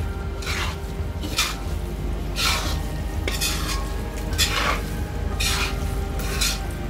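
Carrot halwa being stirred in a pan with a spoon or ladle, repeated scraping strokes at a steady rhythm over a soft sizzle, close and moderately loud.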